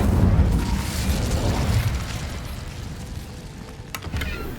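The Incendio fire spell is cast in the video game Hogwarts Legacy, a loud roaring whoosh of flame with deep rumble that gradually eases over several seconds, with a couple of faint crackles near the end.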